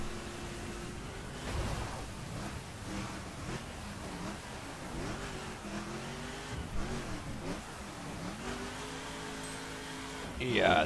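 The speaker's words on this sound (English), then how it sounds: "It's sort of stuck on the limiter in, especially in lower gears. So it's wheel spinning all over the place." Car engine in The Crew racing game held against the rev limiter in a low gear with wheelspin, a steady buzzing drone with repeated rising and falling pitch sweeps, loud throughout, a voice talking over it.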